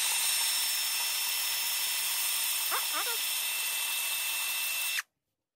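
Power tool fitted with a flap wheel sanding disc, a loud steady high whine running for about five seconds before it cuts off abruptly, with faint voice chirps partway through.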